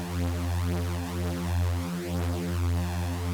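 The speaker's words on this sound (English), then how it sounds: "then you also get a flanging sound and it sounds like this." A synthesized supersaw tone from the Phase Plant synth, with its saturator's LFO on stereo, sweeps in a flanging comb pattern, a steady loud sustained chord with slow, cyclic whooshing modulation and no voices.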